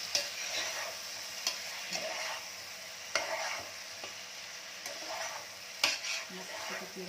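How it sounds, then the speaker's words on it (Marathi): Chicken dal with coriander fries in a pan, a steady close sizzle broken by repeated scraping strokes of a spoon stirring it, with no talking. "आता मला थोडंसं चांगलं फ्राय करून घ्यायचं आहे"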